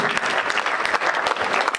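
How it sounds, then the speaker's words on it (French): An audience applauds an award winner at a ceremony, a dense burst of steady clapping at close range lasting a couple of seconds, with no voices over it. "Monsieur Martin Langlade, on vous applaudit."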